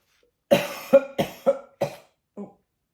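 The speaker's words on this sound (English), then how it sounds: "so I'm going to cough" A run of six coughs, five close together and a softer final one after a pause, dry and near with no talk.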